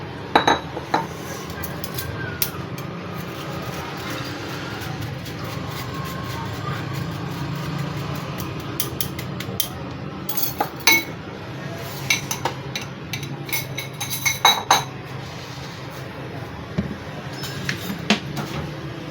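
Kitchen utensils clink and scrape against metal vessels while lemon juice is strained to remove seeds, with scattered light taps and chinks over a steady low background rumble.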